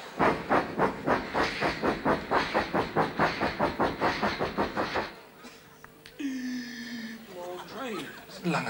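A long steam train rumbles past in a steady rhythmic clatter of wheels and puffing exhaust, loud and close, then fades away, leaving a whistle-like tone and quieter hiss.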